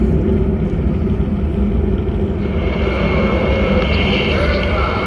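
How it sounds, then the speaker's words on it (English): A rocket lifts off with a steady, loud, broad roar of engines that rumbles continuously and slightly brightens toward the end, with no voices. "All engine running. Liftoff. We have a liftoff."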